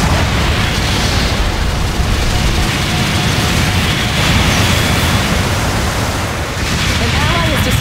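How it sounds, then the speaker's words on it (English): A dense, roaring explosion as a mobile suit is destroyed in a Gundam video game, a loud sustained rumble that fills the clip, with a voice speaking. "An ally has destroyed an enemy mobile suit."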